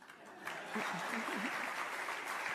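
Applause ripples through a House of Representatives chamber after a line in a political address, a steady broadband wash lasting a few seconds while a voice talks over it.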